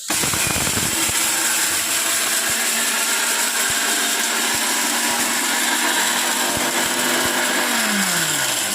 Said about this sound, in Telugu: ఇప్పుడు ఇది మిక్సీ పట్టుకుందాం